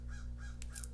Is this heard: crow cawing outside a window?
yes